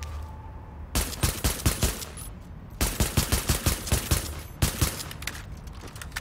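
Pistol gunfire in the video game The Division, loud close bursts of rapid shots fired in three quick volleys separated by short pauses, each burst a string of sharp evenly spaced cracks.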